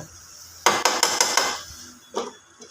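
A metal lid lifted off a cooking pot of butter chicken, a quick cluster of sharp clinks and rattles followed by a single fainter clank a moment later.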